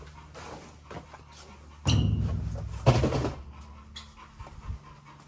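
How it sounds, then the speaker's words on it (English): A dog pants steadily indoors at a comfortable room temperature, after having its ears cropped, with quick rhythmic breaths under room noise and a couple of louder bumps partway through. "Still panting, like it's hot in here, but it's 72 degrees in my house."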